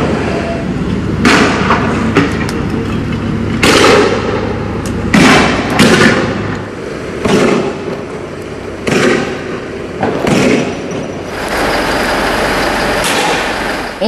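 Police fire tear gas and water cannon at a crowd marching after a funeral in Turkey. Loud thumps and bursts come one after another over a constant roar, with no speech.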